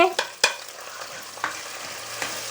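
Shallots, ginger and garlic fry in hot oil with mustard seeds and dried red chillies for a Kerala-style pepper and roasted-coconut fish curry, giving a steady sizzle broken by a few sharp spatula scrapes and clinks close by.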